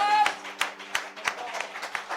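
Worshippers in a church clap in a steady rhythm, about three sharp claps per second, over held musical tones and a faint voice.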